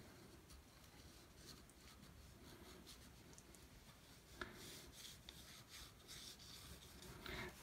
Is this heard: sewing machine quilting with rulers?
no